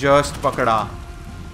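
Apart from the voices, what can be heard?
rain falling in video game Uncharted The Lost Legacy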